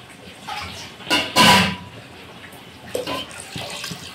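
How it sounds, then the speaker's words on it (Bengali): Water is poured onto rice for polao in a home kitchen, a close splashing gush that swells for about a second, with smaller trickles and splashes before and after. "চাল যতটা থাকবে সেই অনুযায়ী জল দিতে হবে।"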